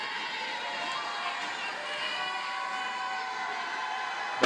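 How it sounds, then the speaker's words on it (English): A basketball crowd at a Kecoughtan Lady Warriors versus Bethel Lady Bruins girls' game roars steadily for the whole moment, a dense, sustained wash of cheering and shouting filling the gym at an even level. "Bethel crowd comes to life."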